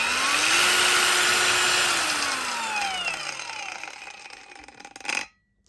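A cheap £25 copy of a Makita angle grinder spinning at full power with a rough, loud whine, then winding down in pitch as it coasts to a stop, ending with a brief clunk.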